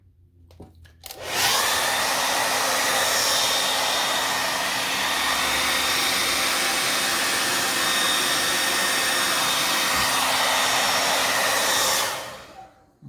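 A heat gun blows hot air over a 2011 Toyota RAV4 headlight, a loud steady roar that starts abruptly, holds for about ten seconds and then cuts off.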